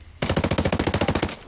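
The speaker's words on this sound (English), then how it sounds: "So like without the silencer, my gun sounds like this," Unsuppressed automatic gunfire from a rifle in the video game Ghost Recon Breakpoint: one loud, rapid burst of about fifteen evenly spaced shots, close and sustained for over a second before stopping.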